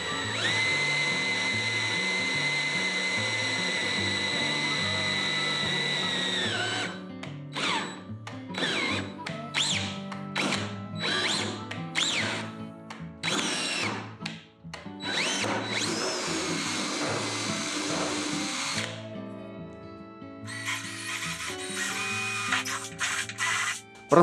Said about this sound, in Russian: Незамедлимо начинаю сверлить.